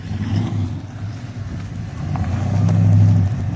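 A 1974 Chevy Caprice pulls away and shifts through its gears, a loud, close, low exhaust rumble that swells and climbs near the end.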